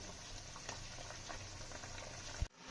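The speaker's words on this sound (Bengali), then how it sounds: "আমাদের ঝোলটা ফুটে এসছে" Fish curry gravy bubbles at a steady simmer in a pan, a faint continuous boiling with small pops, ending in a short clunk.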